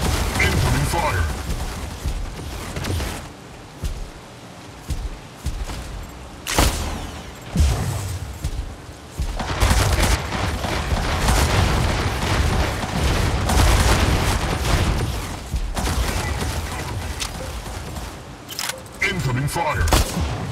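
Mech Arena video game battle with enemy mechs firing: repeated bursts of gunfire and heavy booms in uneven waves, loud and close, with quieter gaps between and talk occasionally over the action.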